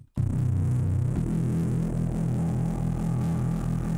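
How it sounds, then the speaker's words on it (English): A 90s drum and bass hoover bass synth, built from a single second of noise, kicks in abruptly as a thick, sustained droning bass with slowly shifting, phasing harmonics. It plays alone and stays loud throughout. "that is a very accurate kind of traditional 90s drum and bass, hoover bass sound"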